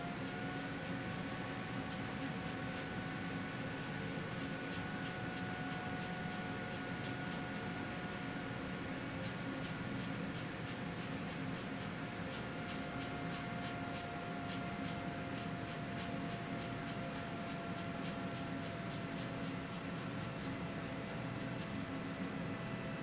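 A colored pencil scratches across paper in rapid, steady rhythmic strokes while drawing hair and roots, close and continuous over a constant background hum of air conditioning, with a brief pause early on.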